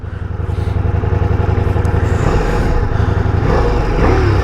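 A 2024 Ducati Diavel V4 motorcycle engine runs loud and close, a steady throbbing idle that swells slightly toward the end.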